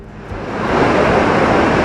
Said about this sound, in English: Welcome to Athabasca Falls in Banff National Park.